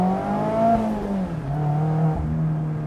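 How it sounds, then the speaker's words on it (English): A Mazda Miata ND3 is under way, its engine note rising and falling through gentle revs in a steady drone, heard from inside the car with no talking over it. "Just the sounds of this car"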